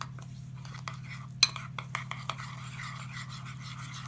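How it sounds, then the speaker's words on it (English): A spoon stirs cake batter ingredients, with warm milk among them, in a bowl, making a few soft clinks and scrapes against the side over a quiet low hum, with no talk. "mix everything together"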